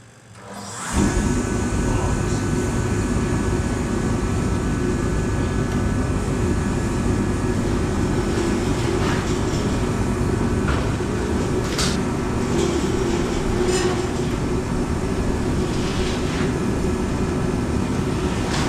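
A diesel heater starts up and runs in a workshop where a custom Subaru bull bar is being built. The loud, steady low rumble and whirring hum begins after a moment and continues unbroken at close range.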